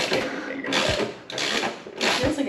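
A ratchet tightens a fastener on an S15 Silvia, three bursts of rapid mechanical clicking close by, each stroke separated by a brief pause.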